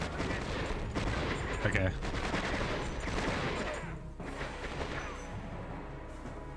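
In the video game Conflict: Desert Storm, bursts of gunfire and fusillade crackle densely for several seconds, then thin out. A voice briefly speaks over the shooting.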